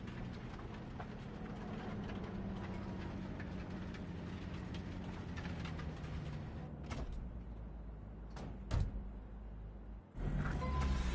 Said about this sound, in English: maybe we should just hijack the train